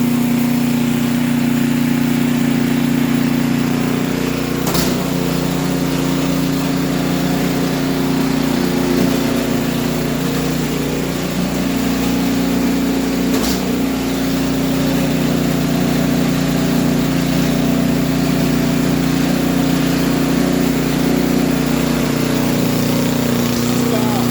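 A snowblower engine runs steadily and loudly at a constant idle with a low hum. It is left running until the gas in the carburetor is used up.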